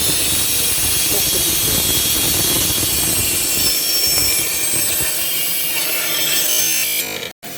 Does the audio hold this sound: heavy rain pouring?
no